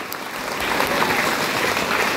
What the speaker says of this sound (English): let's give them a big round of applause for helping and supporting us through our journey